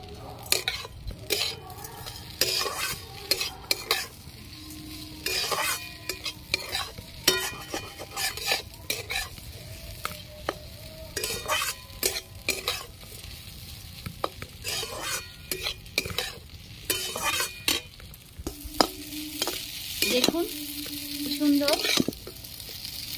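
Vegetables with curry leaves stir-fried in a pan, a spatula scraping and knocking against the metal in frequent bursts over a continuous sizzle, close and fairly loud.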